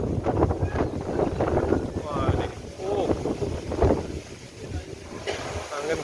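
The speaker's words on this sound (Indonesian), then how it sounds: "Angin betul-betul kuat lur." Strong gusty wind buffets the microphone before rain outdoors near oil palm trees, a continuous loud roar and rumble, while someone talks over it.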